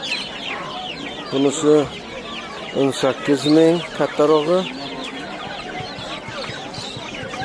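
Chicks crowd together at the Samarkand bird market, where poultry is sold. Dense, high peeping runs steadily through the whole clip, and someone speaks in short bursts over it.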